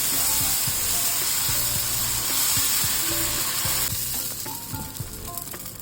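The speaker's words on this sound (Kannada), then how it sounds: "ಈಗ ಒಂದು ತವಾ ಬಿಸಿ ಆದಮೇಲೆ ಈ ಬ್ಯಾಟರ್ ಮಿಕ್ಸ್ ಮಾಡ್ಕೊಂಡಿದ್ನಲ್ಲ, ಈಗ ದೋಸೆ ಹಾಕ್ತಾಯಿದ್ದೀನಿ" Spinach dosa batter hits a hot tava and sizzles loudly and steadily up close, a dense frying hiss that eases slightly toward the end, with no talk.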